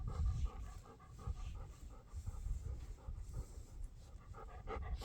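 A puppy pants after a walk, quick rhythmic breaths close to the ear, faint and steady throughout with no voices.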